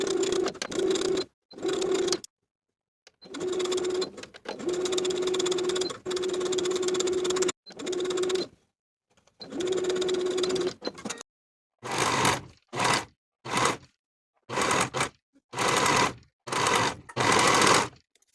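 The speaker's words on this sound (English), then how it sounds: "sew all the way around with a 3/8 inch seam allowance, once again sewing slow so you don't catch any puckers" A sewing machine stitches a sleeve seam in short bursts, running in steady whirring stretches of a second or two with silent pauses between, then in quicker, choppier runs near the end, close and alone.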